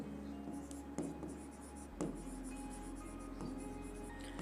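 Marker or chalk strokes on a board while a biology diagram is drawn, with soft scratchy strokes and a few sharper taps spread over several seconds, quiet and close with no talk.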